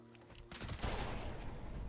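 Rapid bursts of submachine gun fire at ghouls in Fallout 76, a dense rattle of quick shots blending into a continuous clattering roar, fairly quiet in the mix.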